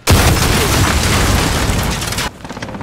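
A grenade blows up in a Call of Duty: Modern Warfare free-for-all match, a loud close blast whose roaring rumble holds for about two seconds before cutting off sharply into quieter ambience.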